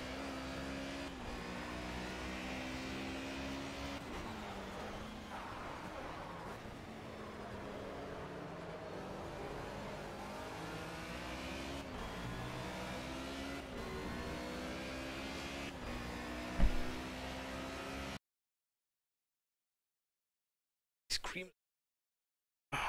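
Race car in the Project Cars racing game accelerates with a steady engine drone that rises and drops through repeated gear changes for about eighteen seconds, followed by silence and a couple of brief bursts of noise.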